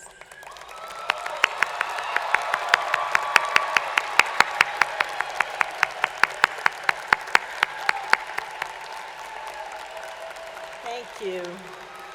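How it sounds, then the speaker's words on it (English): Commencement audience at the IU Southeast 2022 ceremony applauding families and friends, a sustained mass of clapping swelling then fading over several seconds, followed by a brief spoken phrase. "give a big round of applause for your families and friends"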